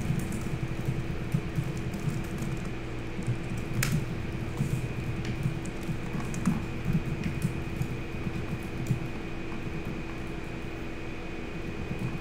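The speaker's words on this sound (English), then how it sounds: "Oh, it's raining again." Rain falls in a building video game, a steady, even hiss that continues unbroken for the whole stretch over a constant low hum, with no one talking.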